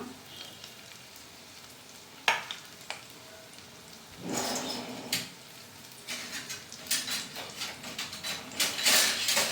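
Black pepper and green chilies go into a hot pan with chicken liver, frying with crackling sizzle that builds after a few seconds, punctuated by sharp clinks and stirring scrapes, close and fairly loud, with no talking.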